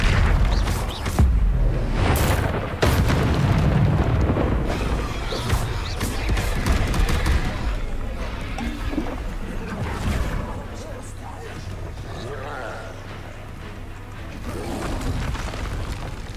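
In Hogwarts Legacy, the Incendio fire spell is cast as a loud, booming burst of flame with crashing impacts, sitting in a dense, continuous game soundscape that eases slightly toward the end.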